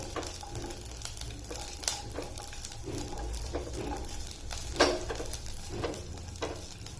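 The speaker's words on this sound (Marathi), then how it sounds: "फक्त अगदी अर्धा मिनिट याला परतवून घ्यायचंय मिरची सोबत" Garlic and green chilies frying in a pan, a steady close sizzle broken by several soft scraping stirs, with no talking.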